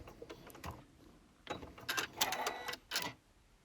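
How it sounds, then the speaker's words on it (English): A sewing machine runs in short bursts while stitching a bag seam and reverse stitching at the end, with several quick mechanical whirring runs separated by pauses, close and fairly quiet. "try and get your needle on top of that seam, reverse stitching at the end to finish."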